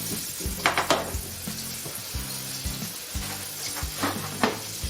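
Mushrooms sizzle and fry in hot oil in a pan for bibimbap, with repeated stirring and scraping clatters breaking through the continuous crackle, heard close up, and a brief word spoken.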